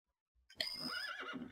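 A single horse whinny from the Minecraft Mo'Creatures mod, a short rising and falling neigh lasting about a second, heard alone and fairly quiet.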